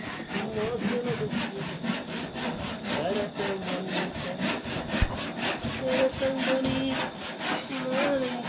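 A handsaw cutting through wood outdoors at a rural house, with steady rhythmic back-and-forth strokes, close and continuous, and faint talk in the background.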